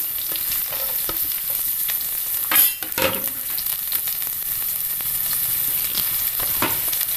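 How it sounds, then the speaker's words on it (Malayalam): Onion frying in hot oil with popped mustard seeds for a masala mutton soup, a steady close sizzle with a brief clatter of stirring partway through. "കടുക് പൊട്ടി അതിലേക്ക് ഉള്ളി ഇട്ട് കൊടുക്കുക."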